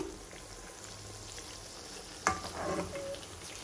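Eggplant frying in a pan makes a soft, even sizzle that runs throughout, with a sudden clatter midway followed by louder bubbling and crackle.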